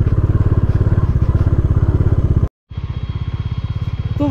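A motorcycle rides along a dusty, sandy unpaved mountain road toward Leh, its engine thumping loud and close in a fast steady pulse, with a brief cutout partway through before the engine drone resumes.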